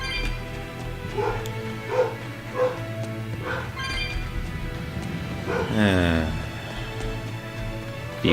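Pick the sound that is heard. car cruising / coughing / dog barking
dog barking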